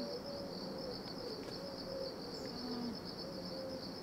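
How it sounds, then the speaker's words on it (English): Cicadas (chicharras) drone continuously in a palm grove in Elche, Spain, a steady high-pitched buzz at moderate distance, with faint bird calls and owl-like hoots underneath and no talking. "Daytime crickets, so they're making a lot of noise."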